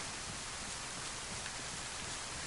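Steady rain in the video game DayZ, a dense even hiss of falling drops with no breaks, soft and continuous on its own.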